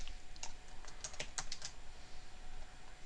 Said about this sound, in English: Let's just type in home-based business.